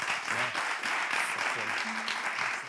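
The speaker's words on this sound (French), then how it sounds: "on applaudit encore." Audience applauding a candidate at a live show, steady dense clapping from a crowd with a few voices mixed in underneath, sustained throughout.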